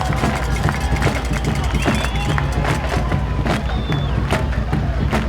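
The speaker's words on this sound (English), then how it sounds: "Crockett County cheerleaders getting the hometown crowd all cranked up" A hometown crowd cheers steadily at a Crockett County high school football game in Alamo, a dense, continuous roar of voices with scattered shouts and whistles filling the whole stretch.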